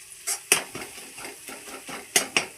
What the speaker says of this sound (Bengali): আর এখন এই মশলা কষানো হচ্ছে।